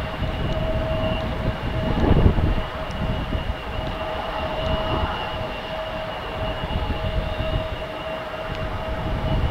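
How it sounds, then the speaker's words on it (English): A train rolls past near Tulsa International Airport, a steady loud rumble of wheels on rails with a sustained whine, swelling briefly early on and continuing throughout. "Okay, I heard train."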